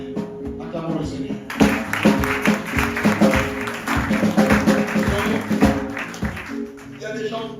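A church congregation claps together during a service, a steady rhythmic applause close by that swells after a short lead-in, with a voice speaking and calling out over the clapping.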